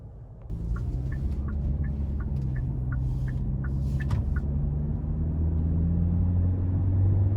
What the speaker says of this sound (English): now it's time to go ahead and take this Elantra out on the road for a quick test drive